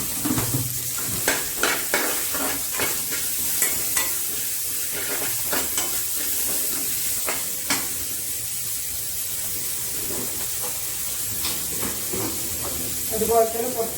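Potatoes and onions for aloo curry sautéing in a pan, a soft steady sizzle with scattered stirring scrapes and clicks of a spoon throughout, a brief flurry near the end.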